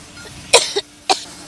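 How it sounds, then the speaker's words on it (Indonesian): Two short coughs about half a second apart, fairly close and clear, with a faint murmur of background noise and no talking. "Kita batuk-batuk terus dari tadi."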